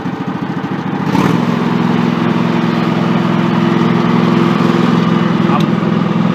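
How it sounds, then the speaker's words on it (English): A Craftsman 3000 series riding mower with a broken seat switch cranks up after a brief rumble, then runs steadily at half throttle with a loud, even, droning engine hum that continues to the end. "Let's go ahead and get it cranked back up. Let's give it about half throttle."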